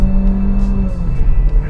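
A Mercedes-Benz CLA 180 engine heard from inside the car as it downshifts, a close, loud low rumble with a brief drop in engine note and short rev changes, no talk.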